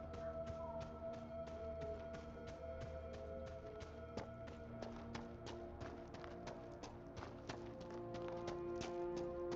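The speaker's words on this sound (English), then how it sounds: "This is a horse." Rapid, regular horse hoof clip-clops in the video game Dragon Age: Inquisition, steady and fairly close, over a faint sustained musical drone.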